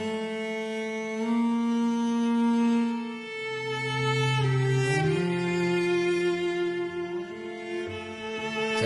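Two sampled solo cellos from the Hyperion Solo Cello library play slow legato phrases together, with sustained bowed notes, shifting harmonies and expressive modulation, clear and alone with no talk.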